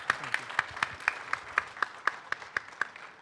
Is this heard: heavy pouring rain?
no